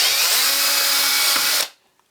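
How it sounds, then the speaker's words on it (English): A small power drill boring a 2mm hole in plastic for a DIY solar Bluetooth stereo, a close, loud steady high-pitched whine that cuts off abruptly near the end, leaving a faint tap. "whether or not I'm going to do an accurate drill here is another story"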